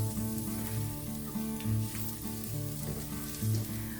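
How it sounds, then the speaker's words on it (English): Onions caramelizing in a pan for a pork and yogurt casserole give a steady, close sizzle and fry with no voices, holding even throughout with faint soft stirring touches. "While the onions are caramelizing"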